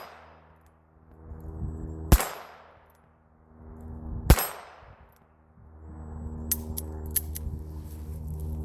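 Taurus Lite 9 .22LR pistol firing two sharp, ringing shots about two seconds apart, each decaying quickly, followed by faint metallic clicks and handling noise.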